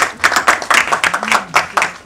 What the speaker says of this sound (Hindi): रोहित सर के लिए एक बार जोरदार ताली everybody